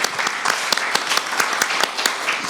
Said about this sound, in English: Please give him and the panel a warm round of applause.